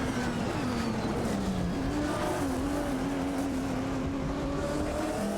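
A Maserati MC12 GT1 and a Lamborghini Murcielago RGT race in a video game. Their engines give a continuous loud whine with pitch dips and climbs through shifts and corners, and tires squeal faintly.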